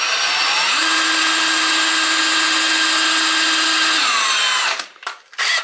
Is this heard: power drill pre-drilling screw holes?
yes